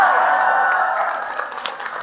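A lecture audience claps together in a dense, steady burst of applause that gradually thins and fades over two seconds, close and loud.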